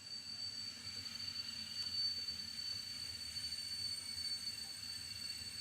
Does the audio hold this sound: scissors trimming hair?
no